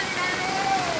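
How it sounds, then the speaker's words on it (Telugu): Heavy rain pours at the flooded Mahanandi temple in Kurnool, a dense, continuous hiss and roar of water on surfaces with a faint voice beneath it. "ఇంత భారీ వర్షము చాలా భారీ వర్షం"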